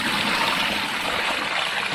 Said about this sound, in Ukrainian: Полийте його водичкою